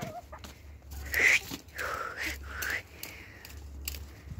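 Chickens cluck and squawk nearby in short bursts over a low background hum.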